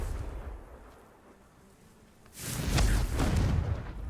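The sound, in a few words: Confringo fire spell blast, from the video game Hogwarts Legacy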